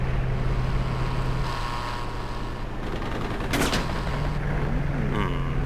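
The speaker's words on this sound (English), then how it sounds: "He's shooting way early." A short, sharp burst of enemy aircraft gunfire cracks over the steady droning engine of an A6M2 fighter in the Aces High 3 air combat game. A fainter rattle follows near the end.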